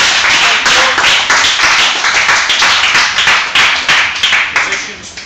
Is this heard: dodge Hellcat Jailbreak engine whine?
no